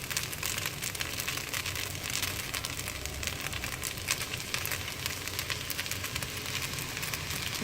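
Idiyappam (puttu mayam) noodles frying with sweet sauce in a pan, giving a steady, dense sizzle and crackle that holds at an even level throughout with no talking.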